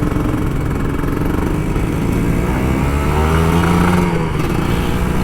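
A Kawasaki Ninja RR 150 two-stroke motorcycle engine revving steadily and loud up close, a continuous buzzing drone with a slight rise in pitch near the end.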